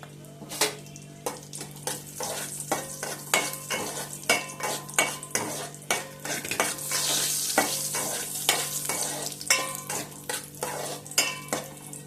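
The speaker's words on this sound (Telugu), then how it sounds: "కాజు ఫ్రై చేసుకుందాము" Cashews frying in a pan, with a steady sizzle under repeated scraping and clinking stirs of a utensil against the metal, sharp strokes recurring every second or so for twelve seconds.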